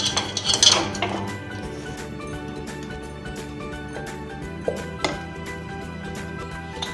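Rice kheer is scooped from a pot into a serving dish, with a cluster of metal spoon clinks against the pot at the start and a few sparse scrapes and knocks later over a quiet hum.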